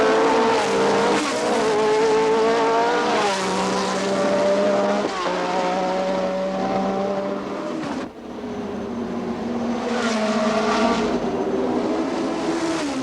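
Formula 1 cars race through the streets of the 1969 Monaco Grand Prix, their engines loud and close as they scream through the corners with rising and falling pitch, a passing car whooshing by before others sweep in.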